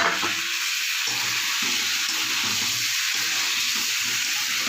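Potatoes and eggs are poured into a pan already holding ginger, garlic, peas and onion, and they fry with a loud, steady sizzling hiss. Soft stirring knocks recur throughout, with no talking.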